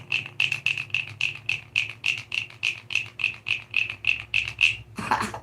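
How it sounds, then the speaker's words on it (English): Frog croaking sounds played as ambience during a live stream, a rapid, regular series of about twenty bright croaks over a low hum, ending with a short rustle. "Let's get some frog noise."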